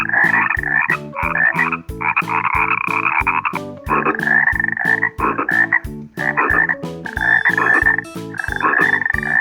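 A real frog croaking in a pool, loud and close, repeating in rapid rhythmic bursts of raspy pulses with brief pauses between calls.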